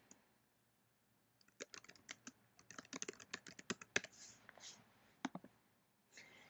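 Bursts of keyboard typing on a computer while a question is entered into an online form, quick uneven clatters of keystrokes with short pauses, close and fairly quiet with no talk.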